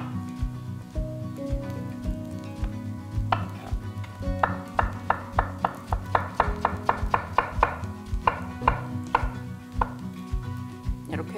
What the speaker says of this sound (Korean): 고기하고 무는 썰고 고기는 찢을 거예요